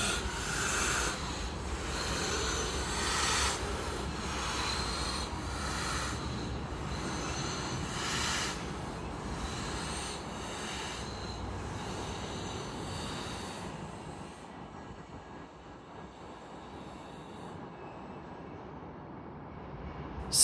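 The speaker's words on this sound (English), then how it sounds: "as we can see here with BNSF 3613 towing SP 4449 into its spot" A BNSF 3613 diesel locomotive tows the SP 4449 steam locomotive, not in steam, through a rail yard; a steady, fairly quiet rumble of rolling rail cars with scattered squeals and knocks continues throughout, tailing off toward the end.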